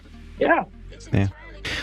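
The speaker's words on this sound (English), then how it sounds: "I don't know if you heard my dog alarm there" A dog-sound alarm goes off with a few yips and whimpering barks in short bursts, close and fairly loud, separated by brief pauses.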